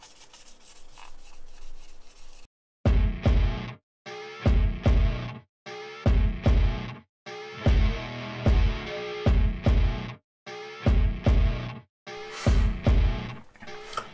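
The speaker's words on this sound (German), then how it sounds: "jetzt schleife ich damit ausschließlich in eine Richtung und mit einem nicht so starken Druck" A scratched part is hand-sanded in one direction with light pressure. About nine close, rasping strokes come in an even rhythm, separated by short silent pauses, with no talking.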